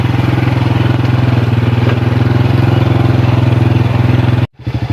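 A motorcycle engine runs loud and close with a steady, throbbing rumble on a rural road, then cuts out briefly before catching again.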